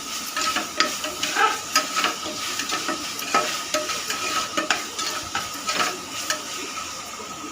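Washed moong dal is stirred and fried in oil, with a busy crackling sizzle and repeated scraping stir strokes against the pan, close and fairly loud.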